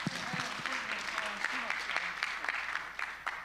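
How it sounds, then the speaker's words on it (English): An audience at an AI summit applauds guests, steady clapping throughout with a voice speaking over it. "round of applause for our guests."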